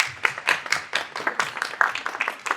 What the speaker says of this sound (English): let's give a round of applause for our guests